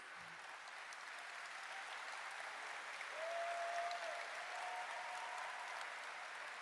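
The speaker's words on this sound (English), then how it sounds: "Applause." Applause at the Gamescom gaming convention: a steady wash of clapping from a crowd, heard from a distance, with a swell partway through.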